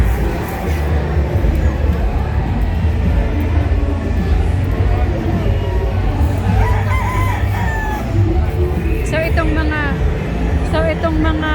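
Gamefowl roosters of pure and crossed lines such as White Kelso, Hatch and Claret crow at a fowl market, several calls rising over constant crowd babble and clucking, with clearer crows near the end.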